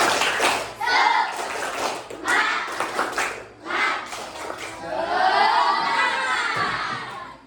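Schoolchildren in a classroom chanting and clapping a spirit clap in loud rhythmic bursts, then shouting and cheering together at the end, close and energetic.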